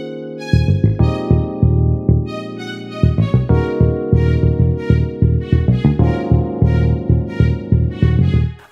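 A full hip-hop beat with a funky bass line under layered electric-piano chords and strings. Punchy drums thump steadily throughout, with a brief dropout near the three-second mark, loud and without talk.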